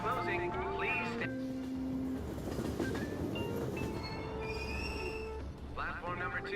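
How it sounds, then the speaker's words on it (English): Train doors closing and a train pulling away in the video game Persona 5 Royal, heard as rumbling rail noise with wheel squeal and tonal chimes, with game voices over it. "Train doors are now closing."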